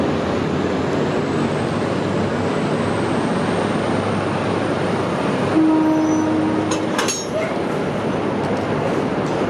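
A V/line diesel train hauling N-class locomotives and carriages departs Geelong station as a loud, steady rumble fills the platform. A brief tonal signal and some metallic clinks cut through partway, with no clear talking.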